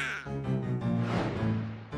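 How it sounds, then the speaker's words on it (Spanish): A cartoon duck from the Pocoyó children's series quacks in a close, loud, buzzy, harmonic burst of repeated nasal calls lasting about two seconds, heard alone with no talking. "Pato."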